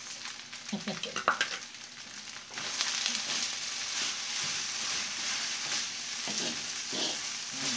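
Beaten egg and rice for Filipino sinangag (garlic fried rice) fry in a pan, starting with sharp scraping and tossing strokes, then settling into a dense, steady sizzle with occasional spatula scrapes, close up and without talking.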